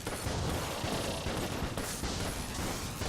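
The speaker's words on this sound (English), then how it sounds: "There will be an explosion of bullets in a second." Bursts of exploding bullets in the game Enter The Gungeon, a dense clattering barrage of rapid pops and crashes that continues without pause.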